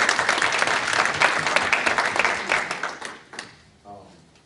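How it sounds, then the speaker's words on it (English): Attendees at a school district board meeting applauding the principals, full clapping from a room of people that thins out and dies away, with a voice starting to talk as it ends. "let's give all the principals a round of applause for doing an excellent"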